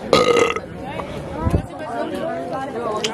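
A loud, close burp rumbles for about half a second, then fades into a noisy room with chattering voices and crowd babble.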